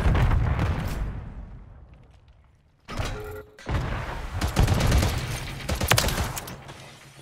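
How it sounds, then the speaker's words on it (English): Grenade launcher fire in a video game: a series of heavy booming blasts and thuds, the first fading out, then several loud overlapping explosions with crackling debris. "Oh, they're doing the grenade launchers."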